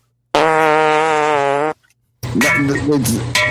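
A long, loud buzzing fart sound effect from a guess-the-sound game plays alone, followed after a short pause by a wobbly, sputtering sound that may be another fart or overlapping voices.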